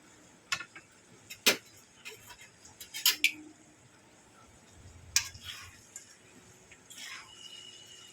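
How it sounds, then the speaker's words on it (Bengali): Chow mein noodles and chicken being tossed and stirred, giving sparse sharp clinks and scrapes of a utensil against a pan over quiet background; no talk. "ভালো করে এটাকে নেড়ে চেড়ে মাখিয়ে নেব"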